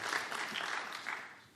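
Applause fills a parliamentary chamber during a debate between party leaders, a short burst of steady clapping from many hands that fades out toward the end.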